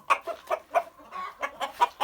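Minorca chickens cluck in a quick series of short, close calls, with a brief rustle of flapping midway.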